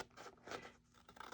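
Scissors trimming the edge of a paper card panel, a few soft, close scratchy snips and scrapes at low volume with no talking.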